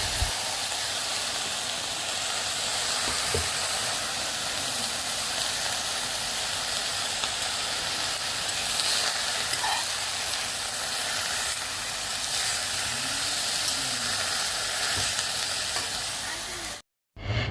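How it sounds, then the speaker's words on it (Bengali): Leafy greens fry in a salted pan with a continuous steady sizzle and hiss, occasional stirring scrapes and clinks, close and even throughout, ending in a sudden brief cutoff. "আর শাকটা দিয়ে পরিমাণ মতো লবণ দিয়ে নেড়ে চেড়ে ঢেকে দেবো"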